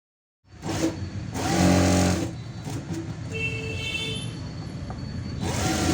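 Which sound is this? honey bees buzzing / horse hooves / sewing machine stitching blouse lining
sewing machine stitching blouse lining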